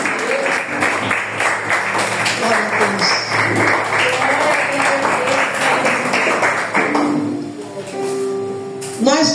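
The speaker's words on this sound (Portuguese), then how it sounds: "Aplauda Jesus, possa aceitar." Church congregation applauding in worship, dense clapping sustained through most of the stretch with voices mixed in, then fading toward the end as sustained tones take over.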